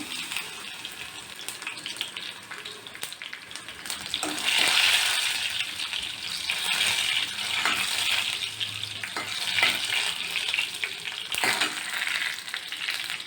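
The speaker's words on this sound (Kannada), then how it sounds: "ಸಾಸಿವೆ ಸಿಡಿತಾ ಇದೆ" Mustard seeds spluttering in hot ghee for tempering a raw mango rasam, a continuous crackling sizzle with scattered sharp pops throughout, close and fairly loud, with no talk.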